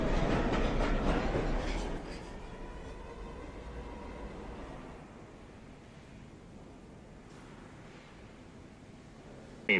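A New York City subway 1 train runs downtown, its loud rumbling rush fading over several seconds to a quieter low drone, ending with a brief sharp sound.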